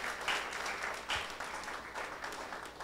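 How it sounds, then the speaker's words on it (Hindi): Faint congregational clapping during a Hindi church sermon, a soft continuous patter heard at a distance with uneven swells. "तालियां बजाइए अपने लिए"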